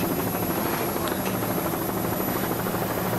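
Race powerboat engines at full throttle during the A division of the 1990 Freeport, New York grand prix, a loud, steady, droning roar that holds unbroken throughout.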